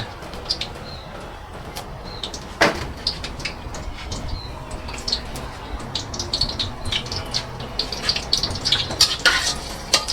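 Pork being stir-fried in a pan, a faint sizzle under a string of irregular scrapes and clatters that grow busier toward the end, with occasional bird calls in the background.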